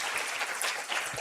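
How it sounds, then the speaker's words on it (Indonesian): A crowd claps in a dense, continuous burst of applause throughout, at a university send-off ceremony for students. "kita berikan tepuk tangan dulu atas kehadiran Bapak."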